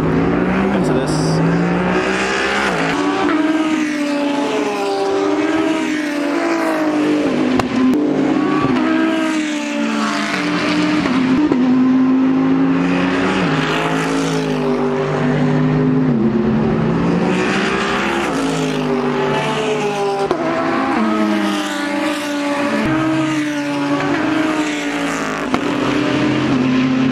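A Mercedes GT race car on a circuit where a Lamborghini Murcielago GT1 runs, a loud engine note rising and falling in pitch through repeated gear changes, with steady speech running over it throughout.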